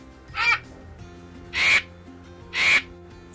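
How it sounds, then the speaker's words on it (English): A vulture screams three times at roughly one-second intervals, each a short harsh rasping cry standing out against a faint background. "Vulture screams."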